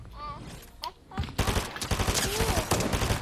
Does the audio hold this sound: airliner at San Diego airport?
no